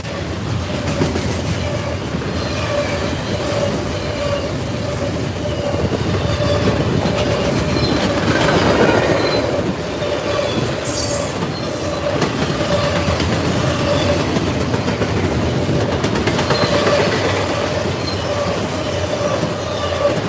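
Freight train of double-stack containers rolling past at Gates, New York, a loud continuous rumble of wheels with rhythmic clickety-clack and occasional metallic squeals, sustained throughout.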